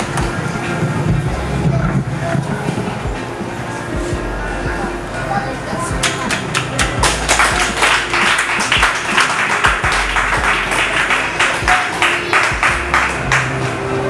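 An audience applauds at a school scholarship presentation for Madame Louise, dense clapping swelling from about six seconds on and continuing loud and steady over background murmur and voices.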